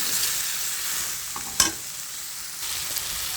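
Okra stirred and fried with spices in a pan makes a steady close sizzle, with a sharp clatter of the utensil against the pan partway through and softer stirring scrapes around it.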